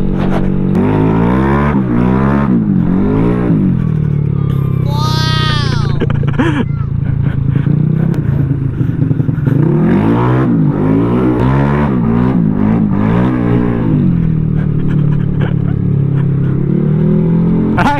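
A Honda Vario motorcycle engine drones loudly and steadily throughout, its pitch rising and falling as it revs, with a brief higher whine midway.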